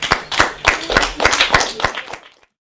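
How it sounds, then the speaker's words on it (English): A small group of learners in a classroom clap together, a fairly close burst of distinct, rhythmic claps that thins and fades out after a couple of seconds. "Give yourselves a round of applause"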